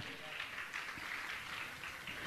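Sustained audience applause at a Jain religious discourse and question-answer gathering, a steady wash of many hands clapping together, even in loudness and somewhat distant.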